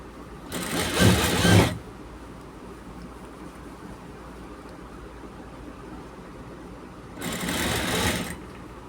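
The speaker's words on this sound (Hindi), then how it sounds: "बेहतरीन सिलाई लगा रहा हूँ लब की।" Sewing machine stitching a men's shirt in two short loud bursts of rapid whirring, about a second each with a long quiet pause between, close up with no talking.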